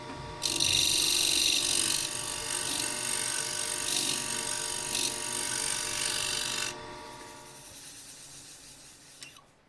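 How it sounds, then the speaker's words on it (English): A scraper cuts the inside corner of a turned wooden box on a lathe, making a steady, fairly loud rasping scrape for several seconds that then drops to a quieter hum of the spinning workpiece. "just finish the corner inside again with the scraper"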